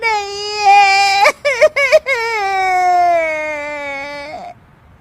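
A woman's drawn-out crying in a dramatized story, loud and close, with long wavering wails broken by a few short sobbing catches in the middle before trailing off, heard alone.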